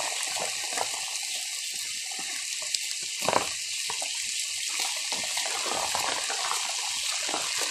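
Rain streams and pours steadily in a rural province, a continuous watery rush with a few brief taps and splashes, fairly close and without any talking.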